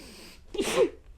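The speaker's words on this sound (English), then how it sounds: "Sneezes halfway in that box." A single sharp sneeze bursts out close by, a brief sucked-in breath followed by an explosive release, over quiet room noise.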